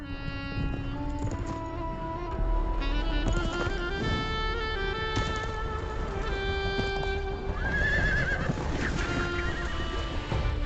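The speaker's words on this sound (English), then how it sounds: "These strong Altai horses, although bred by herders," Altai horses bred by Kazak herders neigh and whinny over hooves clip-clopping in a winter setting, sound continuous and moderately near, mixed with other layered tones throughout.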